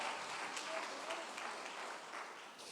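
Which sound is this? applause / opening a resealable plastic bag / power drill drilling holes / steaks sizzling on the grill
applause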